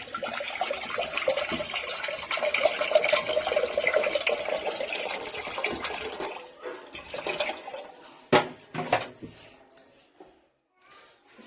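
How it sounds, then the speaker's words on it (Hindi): Water pours into a cooking pot on a gas stove, a steady splashing gush that fades after several seconds, followed by a few clanks and knocks of the pot. "इसमें पानी डाल देते हैं"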